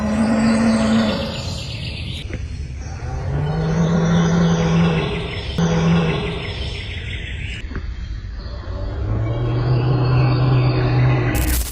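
Deep, drawn-out growling roars rise and fade in long swells, recorded in the woods with no visible animal, loud and close with brief sharp clicks between the calls.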